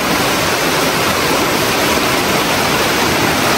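Floodwater rushes through a flooded village neighborhood in a loud, continuous roar that holds steady without a break.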